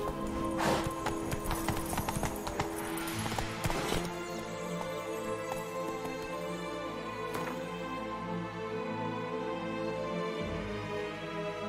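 A horse gallops in the video game The Witcher 3, with rapid, close clip-clop hoofbeats in a steady rhythm, a brief whinny-like burst early on, and a background music bed.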